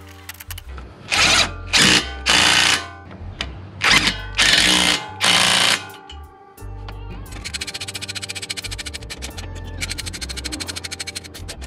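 Power tool whirring in several loud bursts, pausing between them, as the bolts of a Honda Prelude's front brake caliper (two 17 mm bolts) are driven tight; a steadier rattling mechanical buzz follows at the end.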